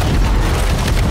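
Dense, continuous booming explosions fill the scene in the video game We Happy Few, loud and rumbling with heavy low-end, overlapping blasts without any pause.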